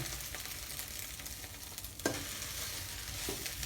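Rice stir-fries with canned fish and vegetables in a pan, a quiet sizzle under a few spatula scrapes and clinks, no talking.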